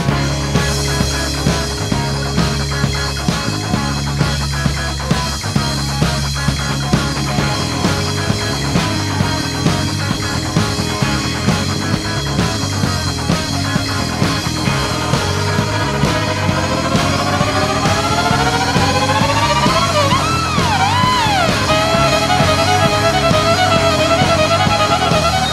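Loud fiddle solo from a band's cover of a song, a fast, dense run of bowed notes over driving backing instruments, ending in sliding, bending pitches.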